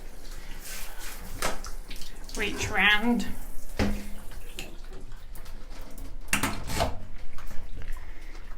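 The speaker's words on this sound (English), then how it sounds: "I'm just going to rinse the reverse side of that screen with the shower head" Shower head spraying water to rinse the back of a glass shower screen in an ensuite bathroom, a steady hiss of spray with bursts and splashes, while a person talks over it.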